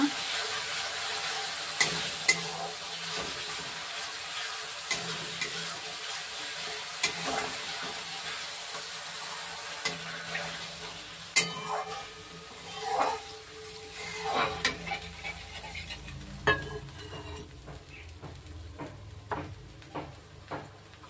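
Water splashed into hot oil in a frying pan in a village kitchen bursts into loud sizzling and crackling, with repeated sharp spits and pops over a steady hiss, a faint voice now and then.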